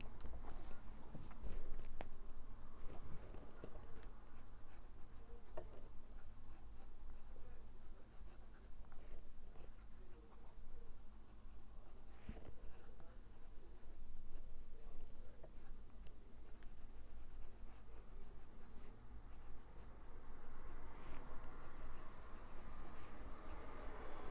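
A fountain pen with a fine steel nib, a Moonman C1 Christmas edition, writes across paper with a steady, close, dry scratching that runs continuously, broken by small taps and strokes.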